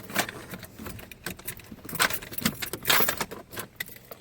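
Keys jangling in irregular bursts of metallic clinks and rattles, fairly close but quiet, beside an old neglected truck, with no talking.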